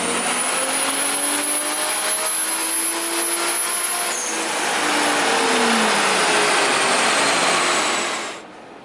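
2JZ-swapped Mazda RX7 engine pulling at roughly half throttle, a loud sustained rising roar with rushing intake and exhaust noise that swells and then cuts off abruptly at the end.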